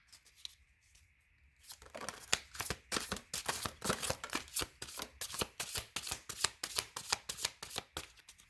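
A deck of tarot cards is shuffled by hand. After a brief quiet start, rapid papery riffles and slaps repeat in a steady rhythm, close and clear, with no voices.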